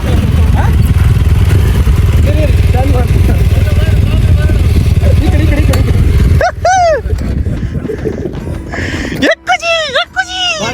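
A motorcycle engine runs loudly and steadily, then cuts out as people talk over lingering road noise.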